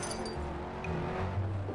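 A car or jeep drives in the Roblox game Pacifico 2, giving a steady low engine drone with a faint clink at the start, close and moderately quiet, with no one speaking.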